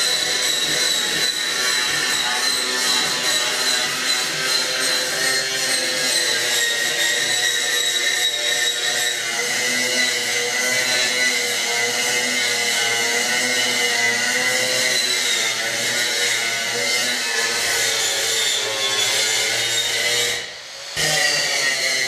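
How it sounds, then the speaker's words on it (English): An angle grinder whines continuously as it smooths welds on a rusty car quarter panel, a sustained high-pitched grinding hiss that dips briefly near the end. "So I'm going to start on the grinding now."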